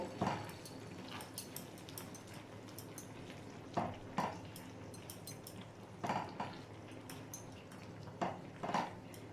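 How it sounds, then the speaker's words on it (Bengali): Ridge gourd curry stirred in a cooking pot, with a few sharp scrapes and knocks spaced a couple of seconds apart over a soft continuous sizzle and a faint low hum. "এটা আমি নেড়ে নিলাম আবার আমি এটা ঢেকে দিচ্ছি"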